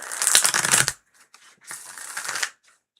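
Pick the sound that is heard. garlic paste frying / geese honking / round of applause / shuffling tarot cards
shuffling tarot cards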